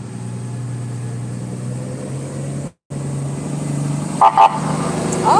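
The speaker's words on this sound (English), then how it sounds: "Oh, they honked at you. Did you see that? They honked" A passing fire truck gives two short honks of its horn near the end, over a steady rumble of engine and traffic noise close by.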